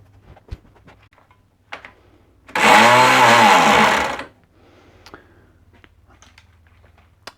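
A small sanding disc power tool whirs up and grinds wood steadily for about two seconds, then winds down, surrounded by scattered clicks and taps of handling.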